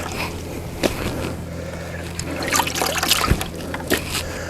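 Water splashing and trickling in a bucket while laundry is rinsed at a wall tent camp in the woods, irregular close sloshes and drips with a few sharper splashes.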